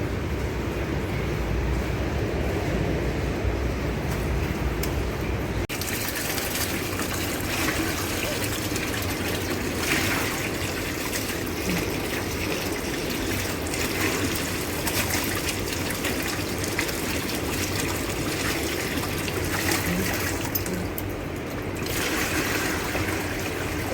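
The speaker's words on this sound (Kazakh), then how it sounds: "Күрішті жуамыз прозрачный болғанша." Water runs in a steady, close gush for the whole stretch while rice is rinsed under it, a continuous splashing flow like a tap running.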